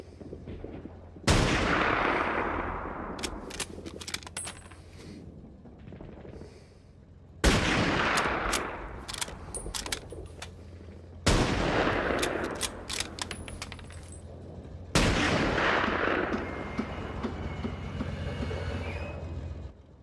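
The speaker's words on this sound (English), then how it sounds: "And he fired about 8 shots before he had to reload," Heavy gunfire from a Saving Private Ryan battle scene crashes in four separate loud bursts of rapid shots, each dying away into echoing combat noise before the next one hits.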